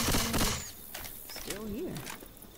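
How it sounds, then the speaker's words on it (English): Quick mechanical clicks and ratcheting of a gun being reloaded in Left 4 Dead 2, fairly soft and brief, with voices briefly sounding over it. "Reloading."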